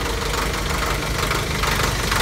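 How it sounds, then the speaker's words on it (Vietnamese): A car engine runs rough, shaking and vibrating as it idles: a loud, dense, continuous mechanical roar with knocking texture, close up and steady throughout, no talking. "Cái động cơ nó rung,"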